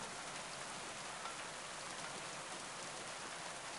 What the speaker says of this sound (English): It's only a wee bit of rain, mate.